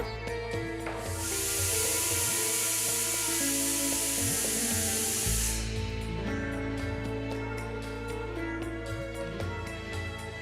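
A pressure cooker on the stove releases a loud, steady hiss of steam for several seconds over a low hum, then cuts off, leaving quieter kitchen clatter.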